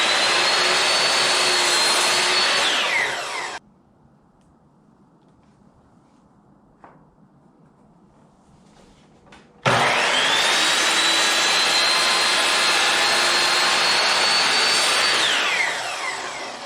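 Miter saw cutting a 2x6 board for a shop stool: two loud whining cuts with the blade spinning up and winding down, separated by several seconds of near silence, close to the saw.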